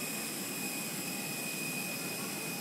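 Steady broadband roar of an airplane's jet engines at an airport in St. Kitts, constant and fairly loud with tonal whine lines throughout, no talking.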